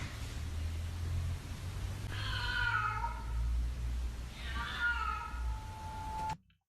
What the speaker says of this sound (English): That could be a stray cat, like begging for food or looking for food.